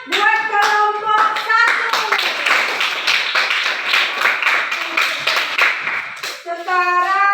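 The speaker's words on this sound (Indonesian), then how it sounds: "Nah, tepuk tangan buat kelompok" Children in a classroom clap together for a student group, a steady burst of many hands clapping with some voices and chatter underneath, and talk at the start and end.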